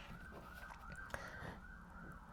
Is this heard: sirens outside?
yes